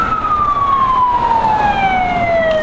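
A wailing emergency vehicle siren sweeps slowly downward in pitch, loud and steady over traffic rumble on a Seattle street in the U District.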